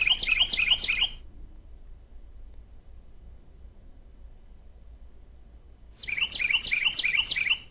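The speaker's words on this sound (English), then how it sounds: "We've got some chirping noises." Bursts of bright, rapid chirping from a generated forest ambience, about a second at the start and again near the end, with a quiet hiss between.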